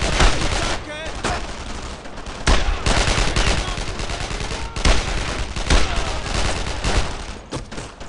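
Army rifles and machine guns firing in the WWII shooter Brothers in Arms: Road to Hill 30, dense loud bursts of overlapping shots continuing throughout with brief lulls.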